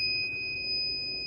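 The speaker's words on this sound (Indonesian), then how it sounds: "Ini suara dari kipasnya" A small fan inside an automatic trash bin runs steadily, though a high continuous electronic tone from the bin's methane sensor dominates the sound, with the fan's soft broadband whir beneath it.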